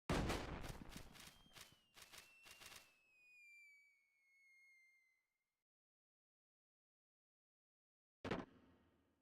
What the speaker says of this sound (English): That's a very adorable firework.